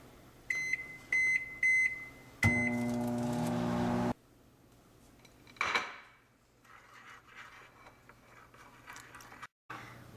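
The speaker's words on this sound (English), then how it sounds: "And for this melting chocolate, we put it into the microwave for 2 minutes." Keypad beeps sound, then a microwave oven melting chocolate hums steadily for a couple of seconds before stopping; a door clunks and faint rustling follows.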